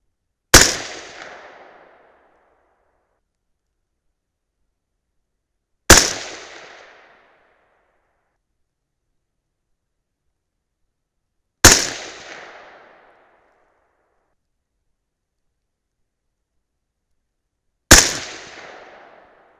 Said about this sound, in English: Let's shoot them all through one hole.